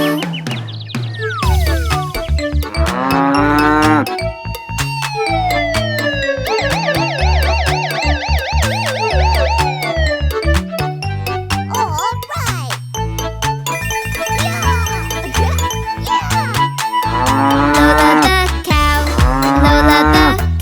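A cartoon cow moos inside a cheerful children's song, its low call blended into a busy, loud melody with bright synth tones throughout.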